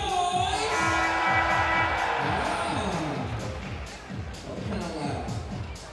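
A basketball crowd at a FIBA 3x3 Asia Cup game cheers loudly for Team Iran, with broad sustained roaring and whoops that peak early and ease off slightly, while an announcer's voice carries over the noise.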